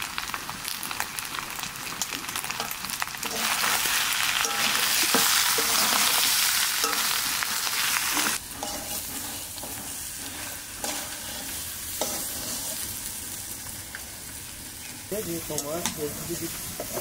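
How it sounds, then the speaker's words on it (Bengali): Mutton fried in a pan with onion, ginger and garlic gives a loud, continuous sizzle and hiss that swells in the middle and then settles, with occasional stirring scrapes and clinks. "এতক্ষণ শুধু পেঁয়াজ আর আদা রসুন দিয়ে কষিয়েছি মাংসটা"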